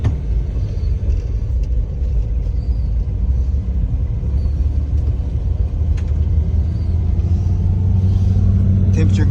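A 1957 Chevy family car drives with a steady, low engine rumble and road drone throughout, staying close and even.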